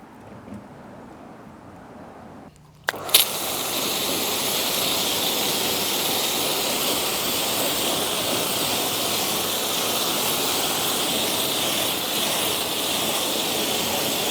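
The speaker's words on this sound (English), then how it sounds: "I don't go mad with the jet wash" A jet washer starts after a quiet moment with a sharp click and then sprays continuously on a CF Moto Explore motorbike, a loud, steady hiss of high-pressure water close by.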